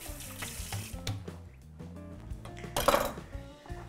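Leeks and celery rinsed under a running kitchen tap, water splashing into a sink with light clinks of dishes and utensils, steady and close with no talking.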